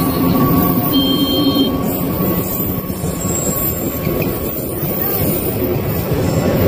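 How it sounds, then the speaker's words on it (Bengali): The Kanchanjunga Express passenger train at a railway crossing, a loud continuous rolling clatter of wheels on rails close by, with a faint warning buzzer tone over it. "এটা একটা প্যাসেঞ্জার ট্রেন"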